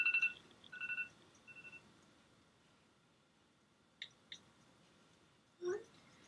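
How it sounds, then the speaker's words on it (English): A mobile phone ringtone plays a short sequence of bright electronic beeping tones, first in a quick melodic run and then in a few isolated beeps, fairly quiet against a near-silent room. "That was my ringtone."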